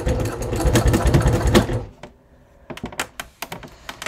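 A sewing machine top-stitches a leather crossbody bucket bag, a steady close whirring run that stops abruptly, followed by scattered clicks and knocks.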